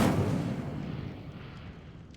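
Incendio fire spell cast in Hogwarts Legacy: a sudden whooshing burst of flame that starts loud and decays into a crackling rumble over about two seconds.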